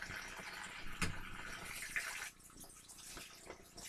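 Shower gel bottles being rinsed under a running tap, with a steady stream of water splashing in a sink and a few brief clunks as the bottles are handled.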